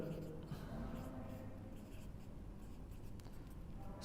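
Chalk or marker scratching out the factors of 7 on a classroom board for a Class Five mathematics lesson, a steady run of close strokes and taps lasting several seconds, with no talk over it.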